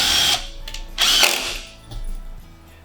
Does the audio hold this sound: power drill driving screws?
yes